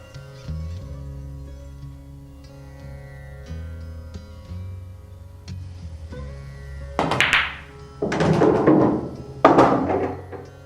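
A billiard cue strikes the cue ball half a tip below center for a stop shot, giving a few sharp, close knocks and clacks in the second half after a quiet stretch with a faint steady background tone.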